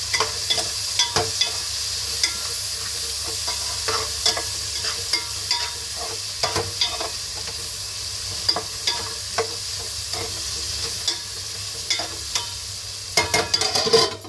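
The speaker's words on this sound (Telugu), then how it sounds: "వీటిని అలా సిమ్లో ఒక 10 నిమిషాల పాటు అలా వేపుతూ ఉండాలి." Food fries on a low flame in a pan with a steady soft sizzle, broken by repeated scraping stirs that grow busier near the end, with no talk over it.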